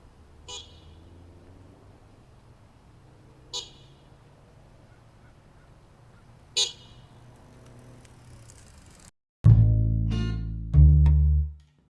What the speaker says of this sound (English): ride really far away and then honk the horn as I approach